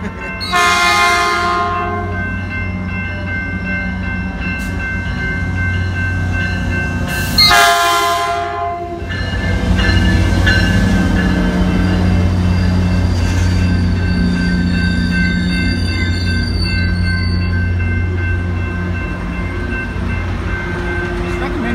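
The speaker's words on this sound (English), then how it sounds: "Here's the train." A Metrolink commuter train in Simi Valley rumbles in close by, blasting its horn twice, then rolls with a low steady roar and faint squealing wheels.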